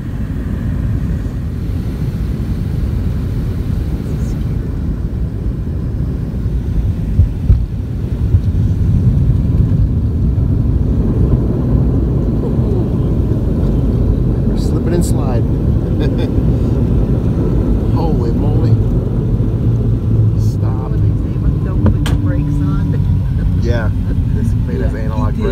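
A passenger airliner rolling out after landing, heard from inside the cabin as a continuous loud low rumble and roar of engines and airframe, with faint clicks and rattles over the steady drone.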